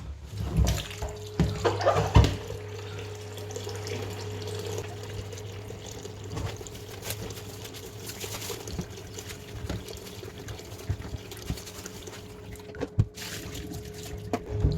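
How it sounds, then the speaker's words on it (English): Water pours steadily onto beans in a container for several seconds, with a low hum and a few clinks along the way. "Okay, let's add water."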